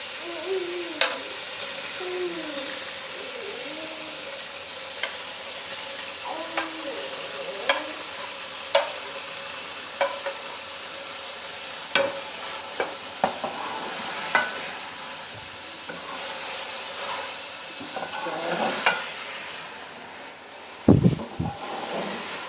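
Chicken and radish curry stirred with a spoon in a pot, giving soft scraping and clinking taps spread irregularly through a steady frying hiss, with a louder knock near the end.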